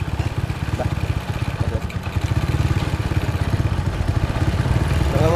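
An old, worn Honda Win motorcycle engine idles steadily nearby, its low, even putter pulsing without a break throughout.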